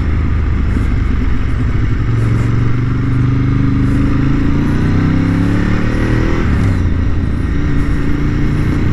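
Motorcycle riding through a city centre, its engine droning steadily and loud throughout with a rising, revving pitch that builds then drops near the end, over constant wind and road rumble.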